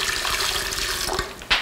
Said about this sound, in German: Und jetzt tun wir da in den Topf heißes Wasser.